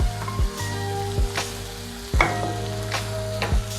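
Food sizzles and fries steadily in butter with chilli sauce in a pan, with a continuous crackle broken by several sharp clinks and scrapes of a utensil stirring.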